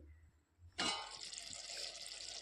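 A glass of water is poured into a cooking pot of broad beans (chikkudukaya) for a curry, starting with a sudden, loud, steady splashing gush after a brief quiet moment and running continuously to the end.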